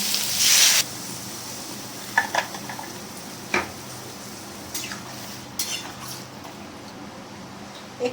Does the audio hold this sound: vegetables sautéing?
yes